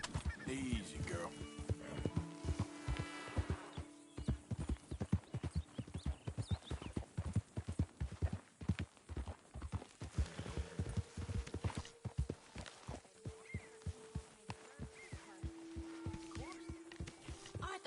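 Horse hooves clip-clopping at a steady walking rhythm in a PS4 video game, close and fairly loud, joined by tonal music and a brief whinny, with people talking over parts of it.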